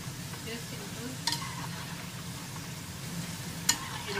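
French fries frying in hot oil, a soft steady bubbling sizzle with a couple of sharp clinks, fairly quiet and close, no one speaking.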